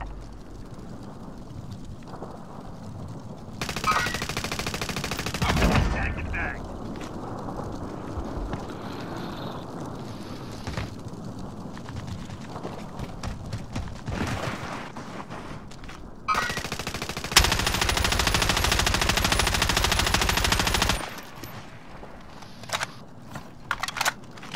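Gunfire in the video game Call of Duty: Modern Warfare: loud sustained automatic bursts of several seconds each, separated by quieter stretches with scattered single shots.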